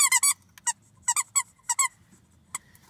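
Squeaky pet toy squeezed in quick bursts, sharp high squeals in clusters of two or three with short pauses between, close and clear over a quiet background.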